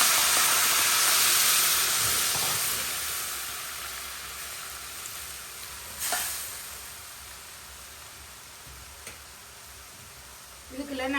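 Onions frying in a pan for a brinjal curry, a steady broadband sizzle that is loudest at the start and eases off, with a few sharp clinks of a utensil against the pan.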